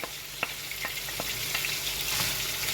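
Diced onions sizzle steadily in a hot pan, with a few sharp clicks and scrapes of stirring over the constant frying hiss.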